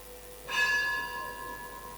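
A single bell strike rings out, its bright tone sustaining and slowly fading over a quiet background.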